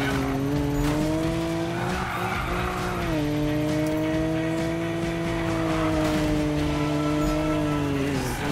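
A car drifts in the Need for Speed video game, its steady engine drone holding under a continuous tire squeal that runs nearly unbroken for the whole stretch.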